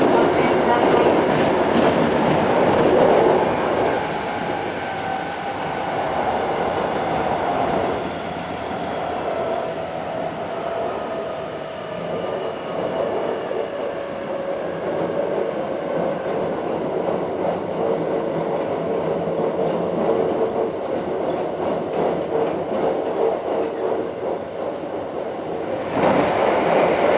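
Hankyu Kyoto Line 7300 series train with field chopper control running between stations, a loud steady rumble of wheels and motor hum with rising and falling tonal whine, rail clatter throughout, and a brief shift near the end.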